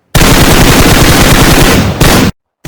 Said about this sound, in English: The kids are now in a heated gunfight in the game.